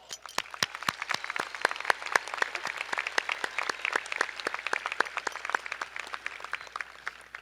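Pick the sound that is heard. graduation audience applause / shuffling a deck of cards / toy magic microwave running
graduation audience applause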